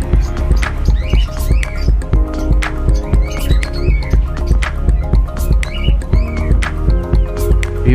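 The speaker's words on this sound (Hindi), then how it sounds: "आपको मुख्तलिफ किस्म की चिड़ियाँ और कबूतर दिखाते हैं।" Many birds and pigeons in a bird shop chirp, squawk and tweet at once, a dense, loud, continuous chorus close by with constant overlapping calls.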